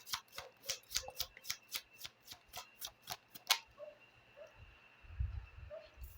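Oracle cards are shuffled in a quick, quiet run of crisp riffling ticks, then slowed to a few soft slides and taps as cards are drawn and laid down.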